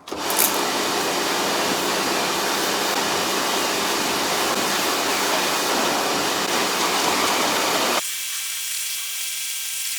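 Pressurized water sprays steadily and loudly over a car during the rinse stage of a wash, a continuous hiss that cuts off abruptly near the end, leaving a quieter background hum.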